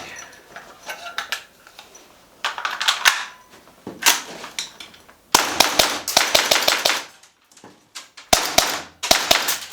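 A CYMA CGS XM177E2 gas blowback airsoft rifle fires loud, sharp cracking shots, first scattered single shots, then rapid close bursts with brief pauses between them.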